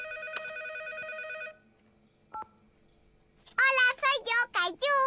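A cartoon telephone rings with a steady electronic tone, goes quiet, gives a brief beep, then a voice starts talking close up.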